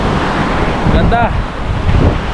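Strong Pacific surf and a rushing current churn at the Tibu tidal pool in Casiguran, Aurora, a close, continuous roar of water mixed with wind buffeting the microphone.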